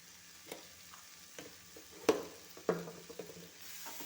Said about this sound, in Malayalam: എല്ലാം കൂടെ നല്ലപോലെ ഇളക്കി യോജിപ്പിക്കാം മസാലയെല്ലാം ഒന്നും നല്ല മൂത്ത് വരുന്നത് വരെ ഇളക്കി കൊടുക്കാം